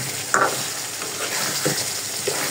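Pangas fish koftas frying in spiced oil give a constant close sizzle, with a few brief scrapes as a spoon stirs them.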